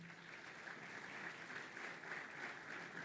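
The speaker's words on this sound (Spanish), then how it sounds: "pido un fuerte aplauso." Audience applause rings out at a Mother's Day church service, a faint, steady patter of clapping from a crowd heard at a distance for a few seconds.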